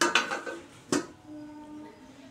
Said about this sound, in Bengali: এবারে ঢাকা দিয়ে দিচ্ছি